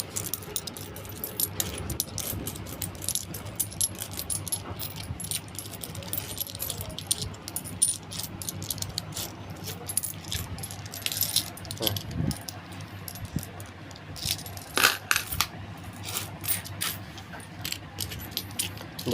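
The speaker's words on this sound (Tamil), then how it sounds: "அதுக்கப்புறம் ₹2 காயினை பொறுக்கணும்." Indian rupee coins, including ₹5 and ₹2 pieces, are sorted and picked up by hand, giving near, continuous metallic clinking and jingling, with scattered sharper clinks throughout.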